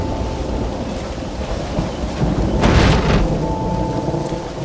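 Steady rain with a deep rumble of thunder building in the middle of a night storm in the Western video game Red Dead Redemption, and no voices.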